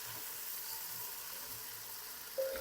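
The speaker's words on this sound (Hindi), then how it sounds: "अब लहसुन अदरक के पेस्ट को भी ऑयल में ब्राउन कर लूंगा।" Garlic ginger paste browns in hot oil with a quiet, steady sizzling hiss, faint and continuous, with a small clink near the end.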